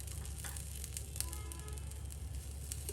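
A veg frankie wrap set on a hot pan over a medium gas flame gives a soft, steady sizzle that holds evenly throughout, close and quiet, with no talking.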